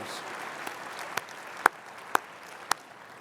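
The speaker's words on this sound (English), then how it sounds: "Give them a round of applause for their leadership." A few scattered, isolated claps ring out from a luncheon audience, sparse and fairly faint against a quiet room murmur, tapering off rather than building.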